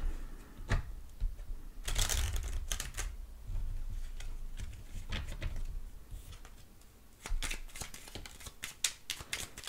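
Tarot cards shuffled by hand for a reading, repeated crisp riffling and flicking bursts, close and fairly loud, coming in uneven clusters with short pauses between.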